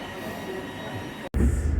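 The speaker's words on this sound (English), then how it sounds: "Well, I'm on the train now." Steady rumble of a train interior heading out of Royston, Hertfordshire, on a late-afternoon service, broken by a brief dropout and then a louder, closer burst of low rolling noise, with no speech.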